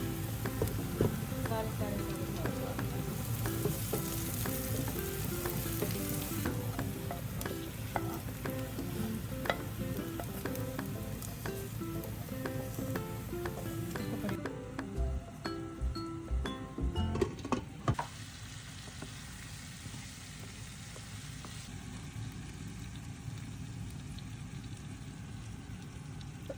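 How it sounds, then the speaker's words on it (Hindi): Masala with chicken fries and gets stirred in a pan as a base for rice, giving a continuous sizzle with occasional clinks of the utensil at moderate volume; the frying quiets noticeably in the latter half. "उसकी मैं इस टाइम भुनाई कर रही हूँ।"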